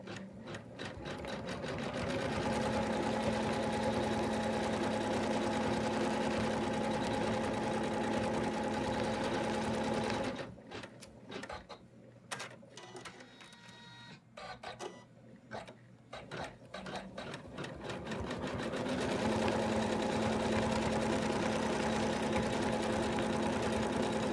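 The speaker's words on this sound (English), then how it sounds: "now we're going to stitch out color number 2" An embroidery machine stitches fabric onto an in-the-hoop Santa design with a loud, continuous rapid whirring hum. It pauses briefly to a quieter, clicking lull midway, then resumes its steady run.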